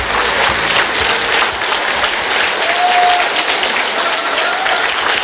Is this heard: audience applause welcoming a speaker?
yes